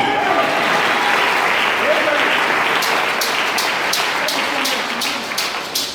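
A church congregation claps and cheers together in loud, sustained applause that turns into rhythmic clapping near the end, with voices heard through it.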